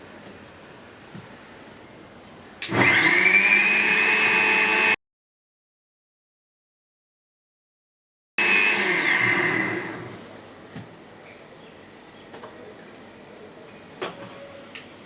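An electric blender grinds raw corn and green chillies into a paste, heard as two loud, steady whirring bursts separated by a pause, the second winding down to quiet kitchen background.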